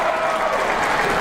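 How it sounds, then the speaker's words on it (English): A studio audience claps in a dense, steady burst of applause, loud and close, lasting just over a second with no pauses. "Where's the applause for Yanira Johnson?"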